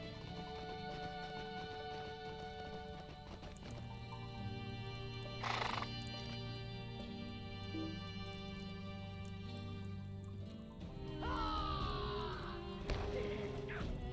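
A horse in LOTRO neighs and whinnies over a steady background of game music, with a loud whinny near the end and faint hoofbeats. No one speaks.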